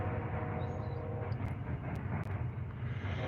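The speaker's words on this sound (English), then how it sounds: "You got the trains going by." A continuous low rumble of a passing train, steady and fairly distant, with a few faint clicks on top.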